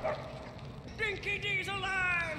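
A dog in the Mad Max video game gives excited yips and whimpering barks, close and fairly loud, in a short burst after a brief lead-in.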